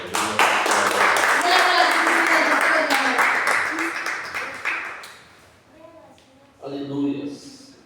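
A church congregation claps in praise of the Lord, steady applause with a preacher speaking loudly over it for several seconds. The clapping then fades into quieter talk and a short burst of voices.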